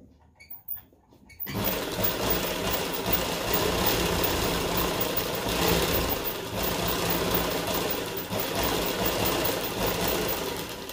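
Sewing machine stitching a palazzo hem, starting after a short quiet pause and then running in a fast continuous chatter, close and steady.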